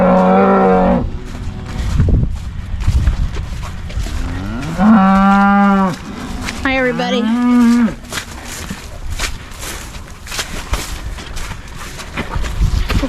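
Cows on a farm let out several long, loud moos, two drawn-out calls close together in the middle, amid outdoor rustling and shuffling; a person briefly speaks a greeting.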